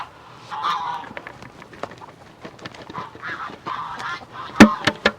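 Farm chickens pecking at kitchen scraps and leftovers, giving off bursts of clucking and squawking close by, with sharper honk-like calls toward the end.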